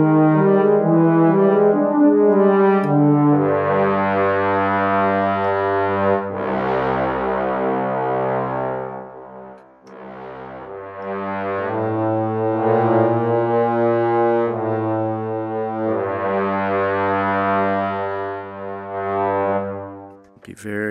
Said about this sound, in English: And then we've got tenor trombones.